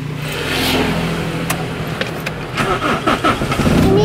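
A car engine cranks and catches again while the vehicle is still moving, a rough mid-range engine roar swelling and revving close by with clicks and rattles from the cabin.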